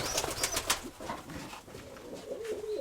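Young pigeons coo close by in a loft, soft throaty murmurs mixed with a few sharp chirps and a brief flutter of wings.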